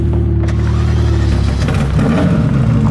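Ferrari F40 engine revving hard, a loud, continuous low rumble with throttle surges and shifting harmonics that rise and roughen in the final seconds, heard close with no talk.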